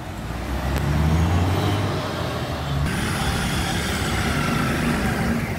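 Heavy road traffic on Avenida Agamenon Magalhães in Recife, with crowded city buses rumbling past: a steady, loud low engine roar and broadband road noise, a deeper passing engine early on, continuous with no pauses.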